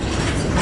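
A passing train at a railfan train meet gives a brief, loud, steady mechanical rumble and clatter, with no voices.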